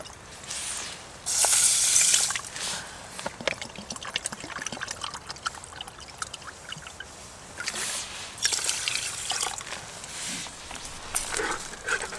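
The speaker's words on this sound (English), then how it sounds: "I'm going to basically put twice the amount of water to rice in a pan and cook the rice" Water pours into a pan of rice on a Trangia camp stove outdoors in the Peak District, a brief rushing splash followed by scattered trickles and small clinks, faint and close.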